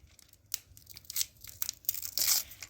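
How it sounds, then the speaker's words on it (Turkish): Cardboard and foil packaging of a toy box being torn open up close, a series of sharp ripping and crinkling bursts that grow louder toward the end. "Yani üçüncü toy box'umuz var. Açıyorum."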